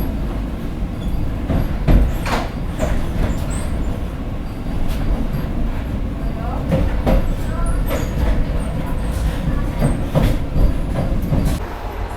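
Vande Bharat Express running from Patna to Gorakhpur, heard from inside the coach as a steady loud rumble with rhythmic rail clatter, no talking.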